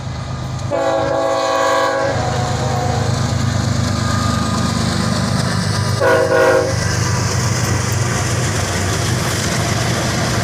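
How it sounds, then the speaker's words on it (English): A loud Norfolk Southern freight train horn sounds a long blast, then a shorter second blast, over the heavy rumble and clatter of the train passing a bridge. "We get an awesome horn salute from the engineer"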